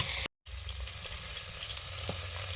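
Fish fries in a pan of hot oil, giving a steady close sizzling hiss with a low rumbling undertone, briefly cut out near the start and then continuing evenly.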